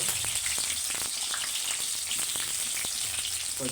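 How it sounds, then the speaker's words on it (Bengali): Chopped garlic and onion crackle and sizzle loudly in hot oil in a pan, a dense close hiss with light spatter and occasional stirring taps throughout. "তেল গরম হয়ে গেছে রসুন কুচি দিয়ে দিল তারা পেঁয়াজ দিয়ে দিল"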